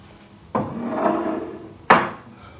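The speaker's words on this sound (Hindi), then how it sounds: "और चम्मच के साथ इसको दाएं से बाएं हिलाता रहूँगा" A spoon scrapes and stirs medium-sized onion in a cooking pot, two distinct strokes with a brief rubbing scrape between them, close and fairly loud.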